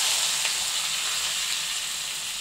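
Four onions hitting a hot pan of oil with cinnamon, bay leaves and pepper for vegetable masala khichdi, giving a loud, steady, close sizzle throughout.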